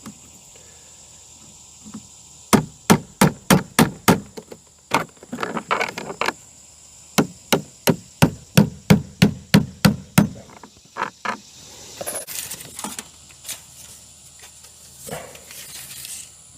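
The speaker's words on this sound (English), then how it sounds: "Get it nailed up." Hammer blows drive nails through vinyl fascia: quick, sharp knocks in several bursts of evenly spaced strikes with short pauses between, close and loud, followed by lighter handling and tapping.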